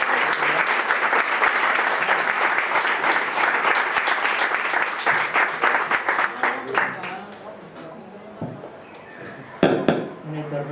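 An audience at a talk on housing access in Puerto de la Cruz applauds a speaker, with sustained clapping for several seconds that fades into scattered claps and murmured voices.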